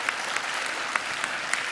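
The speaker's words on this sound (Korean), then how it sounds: "우리 다시 한번 격려의 박수" Church congregation applauds to cheer on the men's mission group during a Sunday afternoon service, a dense steady wash of clapping with a few sharper claps standing out, alone without talk.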